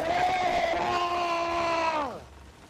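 A person screams hard into a microphone, one sustained, strained, loud cry held for about two seconds before dropping off abruptly, heard alone in a Sea of Thieves game session.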